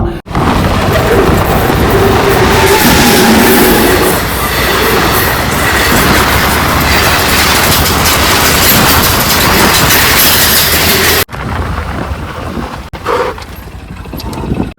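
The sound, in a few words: train passing at high speed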